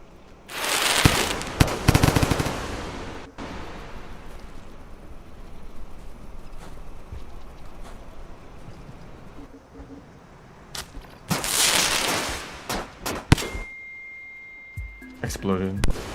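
An explosion in the game Rain World, with two loud crackling bursts, one early and one near the middle, over a steady low rumble, and a person talking faintly between them.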